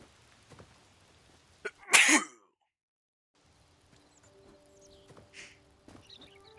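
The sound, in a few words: sneeze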